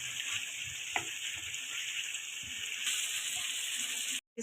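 Kachnar buds fry in hot oil as a steady, close sizzle for several seconds, with a couple of light stirring knocks and a brief cut near the end.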